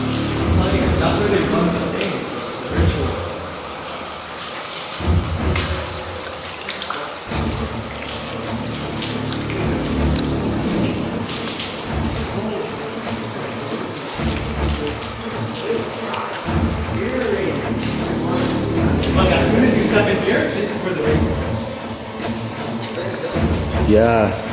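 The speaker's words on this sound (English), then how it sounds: "it starts raining" Steady patter of rain and dripping water runs throughout, with people talking over it, in the Blue Ghost Tunnel in Canada.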